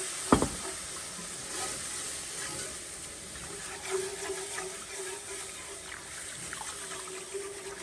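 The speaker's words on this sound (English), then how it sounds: "So we are going to what they call deglaze." Liquid hitting a hot pan after searing beef, a steady close sizzle and bubbling with occasional stirring scrapes, with no talking.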